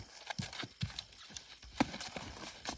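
Hooves of a two-year-old colt clip-clopping on a road, a loose, uneven run of light hoofbeats heard at moderate distance over faint background noise.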